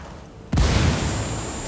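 A frag grenade goes off in the Ghost Recon video game, one sudden loud boom after a brief quiet lead-in, then a broad rumbling tail that holds steady to the end.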